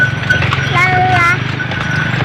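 Steady clip-clop of a horse's hooves pulling a delman carriage along a street, faint and continuous under sung music.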